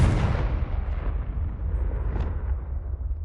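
The Confringo spell goes off in Hogwarts Legacy as a single loud, rumbling blast that hits at once and then roars on with heavy low-end noise, fading slightly over a few seconds.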